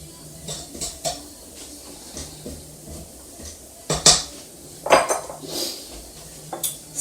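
A spatula scrapes and knocks around a bowl of Christmas fruit cake batter, giving irregular close clinks and scrapes with short louder strikes near the middle.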